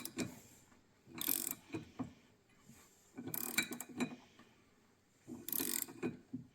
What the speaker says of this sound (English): I'm just going to rotate it round again, so another 360 degrees of crankshaft revolution